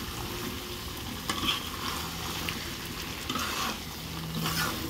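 Meat curry with fried potatoes being stir-fried in a pan, a steady soft sizzle with occasional scraping stirs, fairly quiet and close, no voices.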